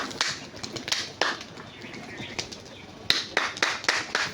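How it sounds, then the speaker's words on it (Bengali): A pair of Giribaj pigeons beat their wings in quick, irregular flurries of flapping as they climb, close and fairly loud against a light background hiss. "দেখো পায়রা জোড়া আস্তে আস্তে উপরে হাইটে উঠে যাবে।"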